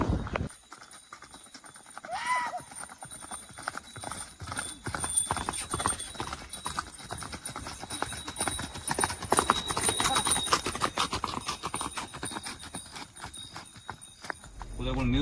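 Horses walking across open grounds during an evening ride, hooves clip-clopping in an irregular steady stream, with an occasional whinny and people talking nearby throughout.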